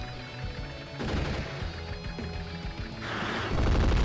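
Bazooka fire and explosive impacts in Advance Wars: Days of Ruin on a Nintendo DS, a dense run of booming blasts and crashing hits over game music.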